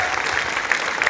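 A preschool annual day audience in a hall gives a loud round of applause for the sound and camera crew, dense steady clapping with a few sharper peaks, a voice faintly mixed in.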